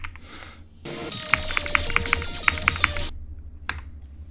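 Quick clicking keystrokes on a computer keyboard sound close and steady during a game, with sharp taps in an uneven run over a soft background hum.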